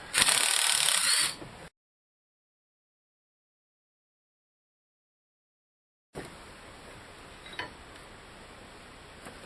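A ratchet wrench works loose the bracket that holds the oil filler tube on a Duramax LMM diesel engine: a short, loud burst of clicking, then silence, then faint background noise with a few light clicks.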